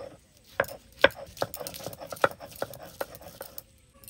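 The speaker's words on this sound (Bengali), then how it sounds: "আদা রসুন একসঙ্গে বেটে নেবো এখন।" Ginger and garlic ground together into a paste on a grinding stone, for chicken darbari. About nine rhythmic knocking and scraping strokes sound close by, with no talk.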